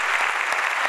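Audience applause for a tango ensemble at an auditorium concert in San Juan, Argentina, a dense, steady wash of many hands clapping throughout the brief moment.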